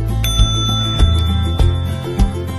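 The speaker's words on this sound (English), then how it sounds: "bell" A commuter bicycle's bell rings four times at even intervals, each a bright, close metallic ding that rings out and decays before the next.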